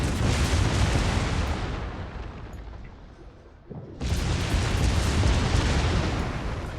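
Naval gunfire from the cruiser Smolensk in World of Warships, loud sustained booming salvos with heavy rumble, easing briefly before another powerful burst of firing.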